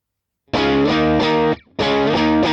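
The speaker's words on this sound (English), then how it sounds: "Here is it without the EQ." A heavily distorted electric guitar through a Vox AC30 amp with no EQ chugs out chords with a boxy midrange, loud and close, breaking off briefly before the riff resumes.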